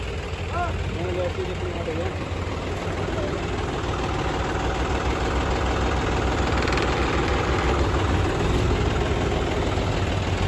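A tractor engine idles steadily and loudly throughout during a corn harvest in the field, a low heavy rumble with brief voices near the start.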